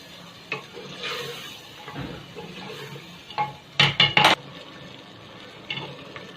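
Masala frying in a pan with added yogurt, a low steady sizzle under scattered scraping stirs, with a cluster of loud clattering spoon-against-pan strikes midway and a faint clink near the end.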